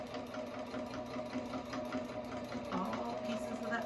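A sewing machine stitches a monogram into a linen pillow, following the original stitch line slowly; a steady, close mechanical whir with a regular pulsing rhythm runs throughout, with faint talk at times.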